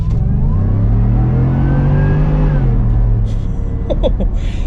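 A supercharged 650-horsepower Roush Ford F-150 pickup engine roars loudly as it accelerates, its deep rumble rising steadily in pitch, with a few faint clicks near the end.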